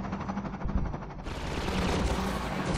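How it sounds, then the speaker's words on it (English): Gunfire rattles through the Half-Life 2: Episode One game, a dense run of overlapping shots that grows busier and louder after the first second and keeps going without a break. "I've been hearing shooting, but I haven't seen any."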